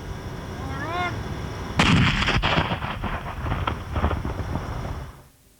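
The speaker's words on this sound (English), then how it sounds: "It'll be a demonstration of the speed at which red cord detonates." Red detonating cord strung between two stakes detonates outdoors in a demonstration, a sudden loud, sharp blast that rolls and crackles for a few seconds before fading; a faint whistle-like tone precedes it.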